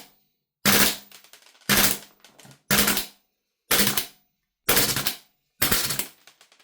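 Gunsmodify HK416A5 gas blowback airsoft rifle with a gassing, freezing-up fault, firing six loud, sharp cracks, each a quick clattering burst, separated by clear silent gaps.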